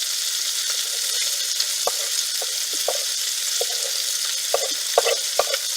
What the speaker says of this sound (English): I'm going to go ahead and add my shallots or onions if you're using it